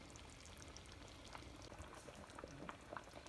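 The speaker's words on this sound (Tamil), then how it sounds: "குழம்பு நல்லா கொதிக்குது" A thick fish curry bubbles and simmers steadily at close range in a clay pot, with small pops and blips breaking the surface, quiet and continuous.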